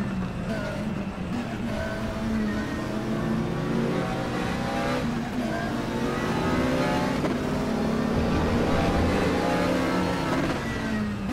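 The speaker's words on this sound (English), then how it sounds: "Really revving the shit out of that McLaren engine" McLaren GT3 race car engine in the RaceRoom racing game at Spa-Francorchamps, revving hard with rising and falling pitch sweeps throughout, loud and continuous over a dense mix of other cars.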